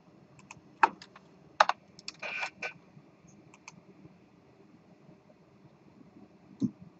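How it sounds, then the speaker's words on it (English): Typing on a computer keyboard during a programming lecture while debugging code, heard as scattered sharp key clicks with a short rapid burst of keystrokes, fairly close and with no talking. "this is getting real tedious having to type that in"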